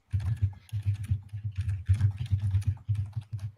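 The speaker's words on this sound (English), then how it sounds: "Oh, I hear typing." Rapid clacking of keys on a computer keyboard, steady and close, continuing in short bursts with brief pauses.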